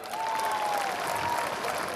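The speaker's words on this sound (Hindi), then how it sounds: "तालियां इनके लिए, तालियां" Steady crowd applause at an election campaign rally in Digboi with the Punjab chief minister, a continuous wash of clapping throughout with a faint tonal whine running through it.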